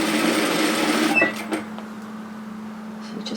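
A sewing machine stitching an apron hem runs in a fast, even whirr for about a second, then stops, followed by a couple of small clicks and handling noises in a quiet room.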